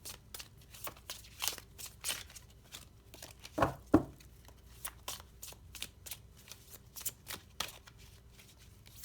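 Oracle cards shuffled by hand, heard as a quiet, steady patter of repeated riffling flicks close to the listener, with a brief louder knock or handling sound partway through.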